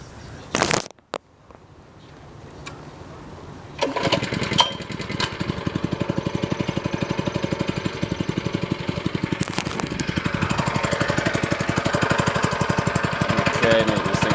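A stump grinder engine catches after a few short attempts, then settles into a loud, steady, rapidly pulsing running rhythm close by, continuing without talk.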